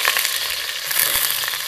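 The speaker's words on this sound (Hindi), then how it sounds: "ऑयल गर्म हो गया, अब मैं उसमें प्याज शामिल कर दूँगी।" Onions sizzle in hot oil in a pan while kadhi curry is being made, giving a dense, steady crackle with occasional pops, close by and with no talking.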